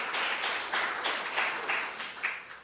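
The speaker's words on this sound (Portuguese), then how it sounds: "pode aplaudir o Senhor Jesus" A church congregation applauds during a Sunday sermon, steady dense clapping from many hands with rhythmic swells, filling the room without any voice over it.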